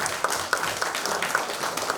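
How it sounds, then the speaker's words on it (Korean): Audience at a Korean–Japanese civil society forum clapping to welcome the moderator, a brief, moderate patter of hands that stays fairly even throughout. "박수로 맞고 인사 드리겠습니다."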